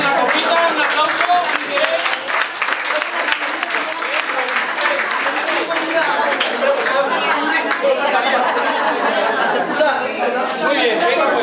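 Applause from a crowd at a card-game (brisca) trophy ceremony in Cadreita, steady clapping lasting throughout with lively chatter and voices mixed in.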